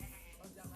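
A voice imitates a goat's bleat, a short nasal wavering cry lasting under a second, close and fairly quiet.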